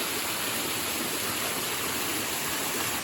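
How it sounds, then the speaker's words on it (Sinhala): Water streams rush steadily at Lanka Ella waterfall, a dense, loud, unbroken roar that fills the whole moment. "මේ මෙහෙනොත් වතුර පාරවල් යනවා"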